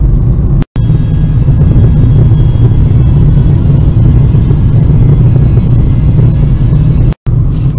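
A car drives along with its engine droning and a constant road rumble filling the cabin, loud and close from start to finish, cutting out briefly twice.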